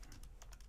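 Fingers tap a phone number quickly on a computer keyboard, a short run of light, close clicks.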